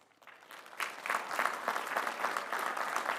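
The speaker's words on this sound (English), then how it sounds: "Please recognize these master's degree recipients with our hearty congratulations and applause." Graduate commencement audience applauds master's degree recipients, clapping swelling quickly from quiet into a steady, fairly distant ovation filling a large hall.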